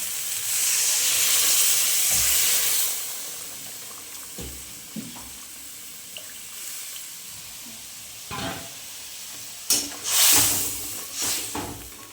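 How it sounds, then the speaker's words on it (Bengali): Hot water is poured into a pan of frying prawn masala, giving a loud, steady sizzling hiss for a few seconds. It settles into quieter bubbling, followed by scattered clinks and brief stirring noises. "চলো আমি এখানে গরম জল দেবো।"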